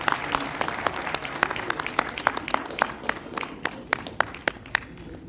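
Applause at a retirement ceremony at IVRI Bareilly, where a retiring staff member is being honoured: many people clap together in a steady crowd patter with some sharper claps standing out, continuing throughout.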